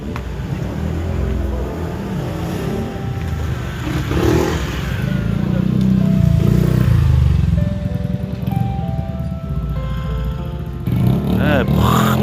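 At night on a street, motorcycles and cars rev their engines in a continuous loud roar with rising and falling pitches, and people talk over the noise throughout.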